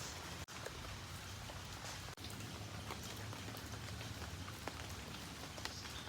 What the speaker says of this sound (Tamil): மழையை பாருங்கள் பெஞ்சிட்டே தான் இருக்குது.